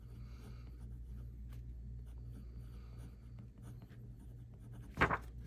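A Pilot Metropolitan fountain pen with a stub nib writes on paper, making faint scratchy strokes over a low room rumble. One sharp louder knock comes near the end, with no talk.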